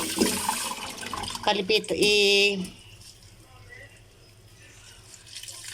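Water drains from cooked pako fern shoots in a short, splashy gush. It comes between stretches of someone talking and is followed by quieter handling.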